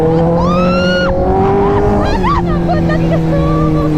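A Kawasaki ZX10R motorcycle revs and accelerates close by with a loud, rising engine whine, mixed with steady wind rush.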